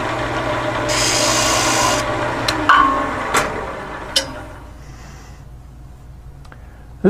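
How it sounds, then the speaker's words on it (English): Sanding a wood-turned ice cream cone Christmas ornament on a lathe, a loud steady rubbing rasp for the first couple of seconds, then scattered sharp knocks and clicks as the work quiets down. "Now, we're already at the sanding stage."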